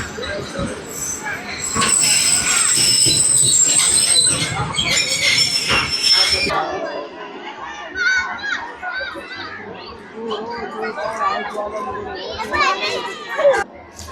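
The Shah Latif Express from Karachi pulling into the old Mirpur Khas station, wheels squealing with high metallic tones amid rumbling carriages, while a busy platform of children and adults chatters throughout.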